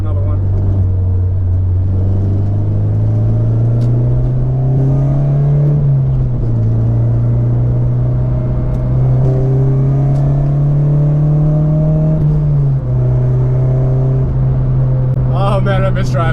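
A Honda RSX Type-S engine drones loudly from inside the moving car, pitch climbing steadily through the gears with two brief dips at the shifts.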